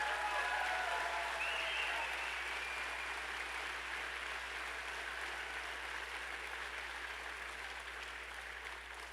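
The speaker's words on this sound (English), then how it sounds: "Let's give them a round of applause" Large audience applauding at a political rally in Madison, Wisconsin, a dense sustained wash of clapping from a big crowd that slowly fades, with a brief cheer early on.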